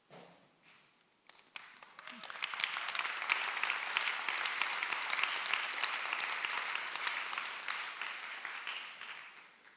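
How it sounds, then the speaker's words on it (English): Steady audience applause at a live summit builds after a few scattered early claps, holding loud and dense for several seconds before tapering slightly at the end. "Thank you very much for your early applause."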